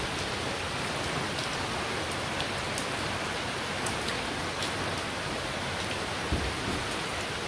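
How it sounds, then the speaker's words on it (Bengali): Steady rain falling under an overcast sky, a dense, even hiss with scattered louder drops, continuous and unbroken with no voices. "আবার এই যে আকাশ মেঘলা করে আবার বৃষ্টি পড়ছে।"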